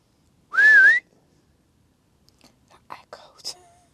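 A single short whistled note rises and wavers for about half a second in the lost village of Derwent, followed by silence and then faint, soft whispery voices.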